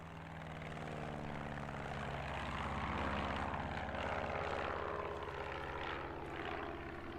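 Propeller drone of a bomber aircraft in the video game Placid Plastic Duck Simulator, a steady engine rumble that swells slightly and fades as it passes over, with no other sounds.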